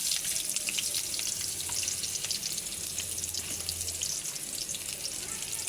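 Onions frying in hot oil with cumin seeds in a wok, a steady broadband sizzle with crackling pops running throughout and a faint low hum beneath, close and continuous with no talk.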